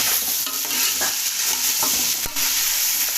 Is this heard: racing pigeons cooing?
no